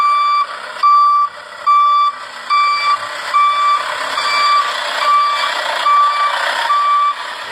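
A green dump truck sounds its reversing alarm, a loud, steady series of evenly spaced electronic beeps repeating about every second, with no talk over it.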